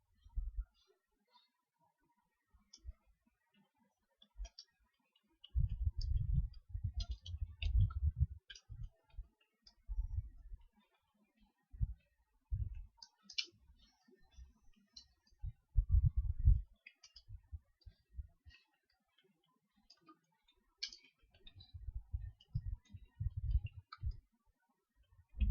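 Someone types code on a computer keyboard, with irregular clusters of soft, close key clicks and taps separated by brief pauses, quiet throughout with no talking.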